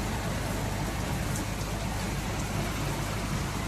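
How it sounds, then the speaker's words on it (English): Dense, steady rainfall in Noida, India, a constant hiss of drops pattering on surfaces with no pauses and no voices. "if you see everywhere there is water which is raining"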